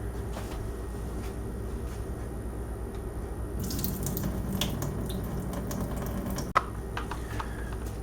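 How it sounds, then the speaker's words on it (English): Excess cooking water pours off a saucepan of cooked wheat berries in a steady, close splashing stream, ending with a sharp knock of the pan. "I'm going to drain all the excess water off the wheat berries"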